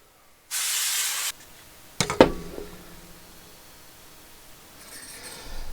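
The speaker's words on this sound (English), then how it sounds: "you want to be careful that we don't overspray it with the compressed air" Compressed air blasts in one short, loud hiss to blow dust out of a Bitmain Antminer ASIC miner, then a few light metallic clinks follow and a faint hiss returns at the end.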